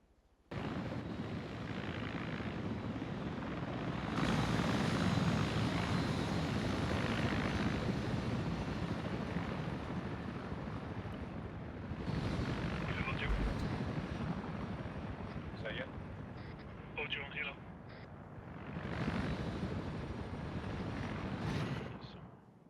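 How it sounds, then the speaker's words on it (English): A single Mi-8 helicopter in the video game Arma 3 flies overhead as it comes in to land, its rotor and engine roar swelling loud and then easing off over about twenty seconds. "It's flying over, going to land. Single MI8."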